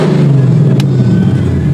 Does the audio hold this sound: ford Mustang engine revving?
yes